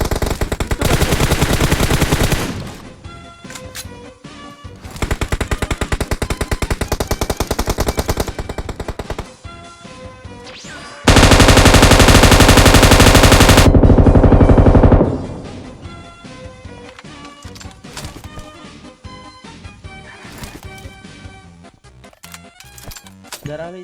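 Gunfire in PUBG Mobile comes as rapid bursts of automatic fire, dense rattling volleys near the start and a sustained loud stretch in the middle, then scattered single shots, with players talking faintly between bursts.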